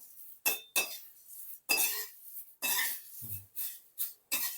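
Drumstick leaves (murungai keerai) tossed in a hot kadai with the stove off, giving a series of short, bright scraping and clinking bursts of spoon against the metal pan, spaced irregularly, with no talking.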